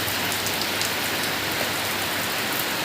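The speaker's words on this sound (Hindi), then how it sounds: "घनी बारिश है लेकिन तभी कोहरा सा भी छा रहा" Heavy rain pours down during a thunderstorm in rural Uttarakhand, a dense, steady hiss of drops hammering surfaces, loud and unbroken throughout, with no thunder or voices.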